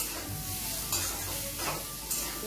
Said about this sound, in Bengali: বরবটিটা ভেজে নিই